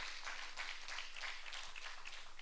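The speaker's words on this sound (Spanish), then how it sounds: "Dele ese fuerte aplauso al Señor en esta tarde para la gloria del Señor." Church congregation claps together in praise, a faint, uneven patter of many hands with soft swells, somewhat distant and without clear speech.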